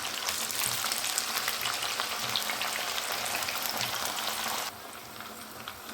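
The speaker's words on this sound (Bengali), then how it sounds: "এবার এই সেম তেলেই আমি চিকেনগুলোকে দিয়ে দিচ্ছি।" Marinated chicken goes into hot oil already used for frying potatoes for biryani, giving a loud, bubbling sizzle that stays strong and then drops noticeably softer near the end.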